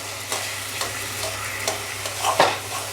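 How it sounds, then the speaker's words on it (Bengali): Potato stuffing for bread rolls being broken up with a spatula in a frying pan, soft sizzling throughout with a few scraping strokes of the spatula against the pan, close and fairly quiet. "একটু একটু এখন খুন্তি দিয়ে কেটে দিচ্ছি"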